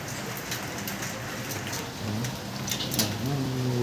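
Steady outdoor rain patters as a dense, even hiss with scattered drop ticks, and a faint voice or tonal sound emerges briefly toward the end.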